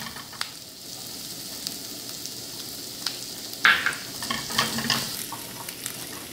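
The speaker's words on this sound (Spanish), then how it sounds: "Ya un poco dorado el tocino, le voy a agregar el ajo, la media cucharadita que tenía de ajo fresco." Bacon and fresh garlic frying in a pan, a soft steady sizzle with sharper crackling pops and stirring scrapes partway through, heard close and alone.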